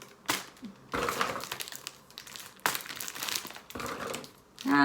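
A plastic food bag wrapper being rolled down to seal it, giving close, rustling crinkles in several bursts with brief pauses between them.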